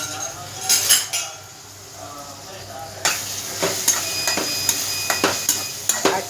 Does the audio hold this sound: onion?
yes